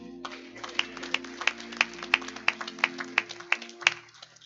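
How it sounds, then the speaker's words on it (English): Rhythmic clapping from a group beats out a steady tempo, sharp regular hand claps over a sustained musical tone. "we'll continue to clap"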